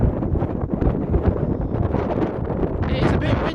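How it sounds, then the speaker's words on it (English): Strong wind buffets the microphone on a hilltop walk, a steady low roaring rumble with gusts swelling and easing throughout. "It is a bit windy, I have to admit."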